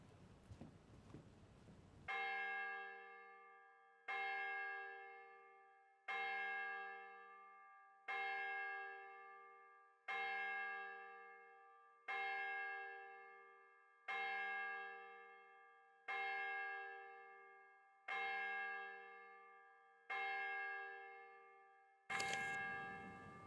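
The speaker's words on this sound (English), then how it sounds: "Did you hear that? Hear what? The bells." A church bell tolls loudly and alone, about ten evenly spaced strokes roughly two seconds apart, each ringing out and decaying before the next.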